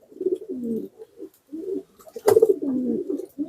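Soft, low pigeon cooing in repeated throaty phrases from a bird held in the hand, close by, with short pauses between calls and a brief rustle midway.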